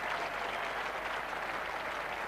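A crowd at The Oval applauds steadily as England reach 200 against Pakistan in the 1987 fifth cricket Test, a broad, even wash of clapping that holds at the same moderate level throughout.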